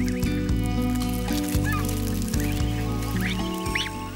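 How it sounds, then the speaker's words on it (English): Snow geese honk and call repeatedly in the brief Arctic summer in Russia, a gosling among them, with overlapping close calls in an uneven rhythm. "Into the sunlight of a brief Arctic summer in Russia struggles a snow goose chick."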